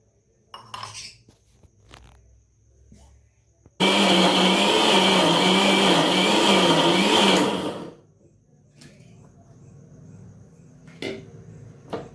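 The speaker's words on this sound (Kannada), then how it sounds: "ಇವಾಗ ಮಿಕ್ಸಿ ಜಾರಿಗೆ ಹಾಕ್ಕೊಂಡು ಹಾಲು ಮತ್ತು ಸಕ್ಕರೆಯನ್ನು ಗ್ರೈಂಡ್ ಮಾಡ್ಕೊಳ್ಳೋಣ" A kitchen mixer grinder blends milk and sugar in its jar, a loud steady whirring burst of about four seconds between quieter handling clinks and knocks.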